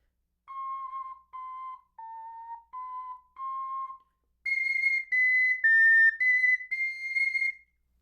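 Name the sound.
clay ocarina playing high and low notes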